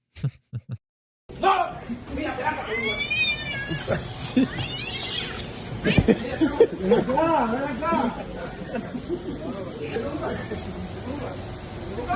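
A cat meows and caterwauls repeatedly, close and loud, at a World Baseball Classic game, with people talking and crowd chatter around it.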